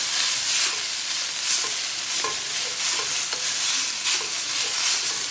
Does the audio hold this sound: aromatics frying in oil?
yes